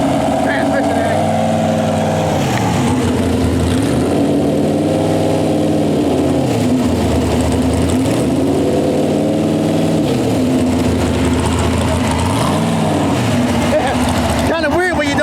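A pulling tractor's engine drones loud and steady through a county fair tractor pull, its pitch rising and falling in long sweeps as it works, with an announcer's voice over the top.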